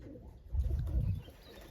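Pigeons coo nearby at a loft in a short, low, throaty burst, with quiet background noise before and after.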